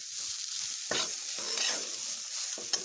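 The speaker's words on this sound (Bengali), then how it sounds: "ডুমুরকে এইভাবে ডুমুরের সঙ্গে একটু আলু দিয়ে ভেজে তারপরে আমি এগুলোকে তুলে নেব" Figs and potatoes frying in a pan hiss with a steady, bright sizzle while a spatula stirs and scrapes them now and then.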